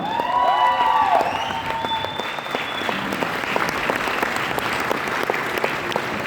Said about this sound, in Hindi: एक जोरदार ताली मिस्टर अमित जी सर के लिए